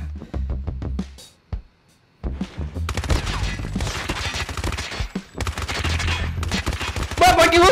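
Gunfire in the mobile shooter Call of Duty Mobile: rapid automatic bursts and single shots, loud and close, with a brief pause before sustained dense fire resumes, continuing to the end.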